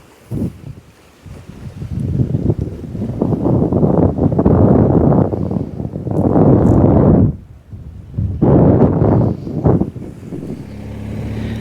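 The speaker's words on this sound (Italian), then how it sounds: "C'è un vento fortissimo." Heavy wind buffets the microphone in loud, rumbling gusts that surge and drop away in the Po Delta, with a brief lull before the roar returns.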